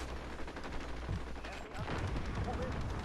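Gunfire from a carbine-length lever-action brush gun in 45-70 Government in the game Call of Duty: Modern Warfare, loud rapid bursts of shots with crackling echoes over a constant noisy background, a voice faintly under it.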